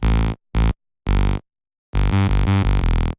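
Bright buzzy synth tones from a saw wave with its fundamental removed play in short separated bursts, then a longer run of quick repeated notes, harsh and thin-sounding with no voices.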